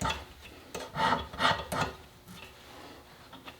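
Burrs are filed off the extractor of a Stevens Favorite rifle in a few short, close rasping strokes, followed by quieter scraping.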